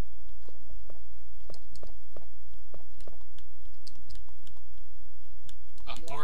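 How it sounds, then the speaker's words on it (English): Old typewriter used as a save point in the game Resident Evil 3: a rapid series of crisp, irregular key clicks over a constant low hum, ending in a short burst of a different sound. "Old typewriter, you can save progress."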